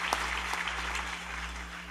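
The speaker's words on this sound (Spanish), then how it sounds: "Denle un aplauso a Dios por Ezequiel Molina Sánchez." Church congregation applauding together, a dense steady clatter of clapping hands over a low hum, fairly faint and continuous throughout.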